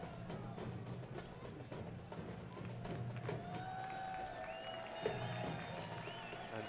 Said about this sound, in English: the ball boy getting a round of applause for retrieving the ball off the pitch